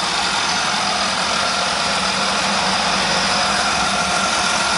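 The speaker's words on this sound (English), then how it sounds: "Engine sounds absolutely amazing. It idles really, really well." A restored 1959 Chevrolet Apache half-ton short bed stepside with a 350 V8 and four-barrel Edelbrock carburetor idles, a steady, loud, even rumble heard close up with no talking.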